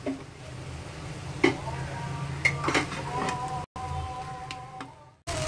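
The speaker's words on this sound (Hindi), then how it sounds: "देखिए इसको मिक्स कर दिया फास्ट फ्लेम पे" Egg fried rice with green onions stirred in a pan over a high flame, giving scattered metallic clinks and scrapes of utensil on pan over a steady low hum, with short gaps of silence.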